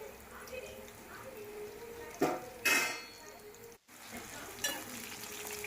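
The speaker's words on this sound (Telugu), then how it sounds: "ఇలా మధ్య మధ్యలో అయితే కలుపుకుంటూ ఉండాలండి, గోల్డెన్ బ్రౌన్ కలర్ వచ్చేలాగా" Bitter gourd pieces frying to golden brown in a pan for a spicy Indian curry, with a continuous sizzle, a few sharp spoon-and-pan scrapes from stirring, and a voice talking over it.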